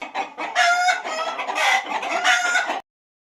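Farm chickens, including Banaraj, Sonali and double FC breeds, cluck and a rooster crows loudly and close in several overlapping bursts before abruptly falling silent.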